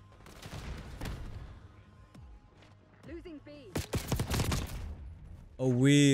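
Bursts of gunfire from the video game Black Ops 6 crack and rattle in quick clusters, some shots overlapping, while players' voices come and go between them.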